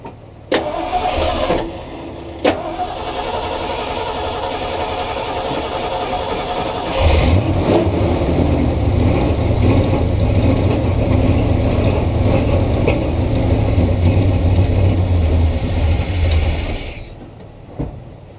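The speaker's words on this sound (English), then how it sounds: "Give it gas first, and then before you start it." A car engine fitted with an Offenhauser intake cranks with a couple of sharp clicks, then catches and revs up, settling into a loud, steady rumbling idle that runs for over ten seconds before cutting off.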